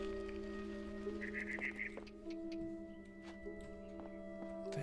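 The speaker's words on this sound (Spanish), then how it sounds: "Eso es como un pájaro." In the video game What Remains of Edith Finch, a bird lets out a brief burst of squawking chirps over a quiet, steady tonal background, faint and short.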